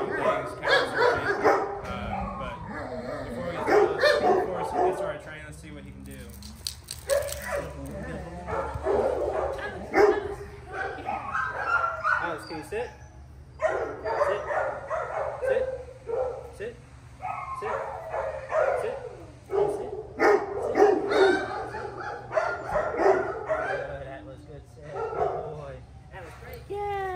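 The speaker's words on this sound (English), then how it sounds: "lots of dogs barking in the background" Several dogs barking and yipping in the background during a German Shepherd puppy training session, frequent overlapping barks at a middle distance, mostly under ongoing talk from a man nearby.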